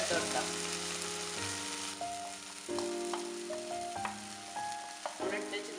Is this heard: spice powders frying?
yes